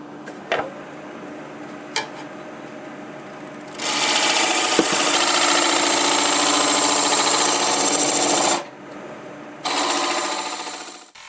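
A wood lathe spins a bowl while the tool cuts away stock from the bottom, producing a loud, steady whirring rasp for several seconds, a short pause, then another cut that fades out.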